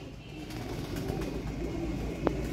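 Rare pigeons kept by a fancier give soft low coos over a faint steady background hum, quiet and close, with one brief sharper call near the end.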